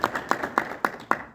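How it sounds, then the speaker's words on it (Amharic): Five evenly spaced hand claps, close and fairly sharp, with a steady rhythm and no crowd noise around them. "ሞቅ አድርጋችሁ አጨብጭቡልኝ።"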